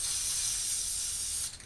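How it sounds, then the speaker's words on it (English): A can of spray paint hissing onto a haunted house wall in one continuous, steady, close jet of air that cuts off near the end, with no talking. "you're just going to spray the paint on"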